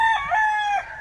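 A rooster at a gamecock breeding farm in Guamuchil, Sinaloa, lets out a loud, close crow. The sound is a short, clear, harmonic call that falls off at the end.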